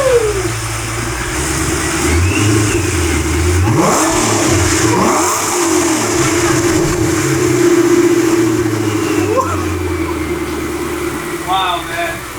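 A Ford GT engine revs loudly nearby in several sharp throttle blips that rise and fall over a rumbling idle, with people talking and exclaiming over it.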